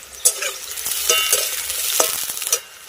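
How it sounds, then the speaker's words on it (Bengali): Potato pieces fry in oil in a pan for a Bengali tita dish, a steady close sizzle broken by several sharp stirring scrapes and clatters, with no talking. "আমি প্রথম আলুটাকে ভেজে নিচ্ছি"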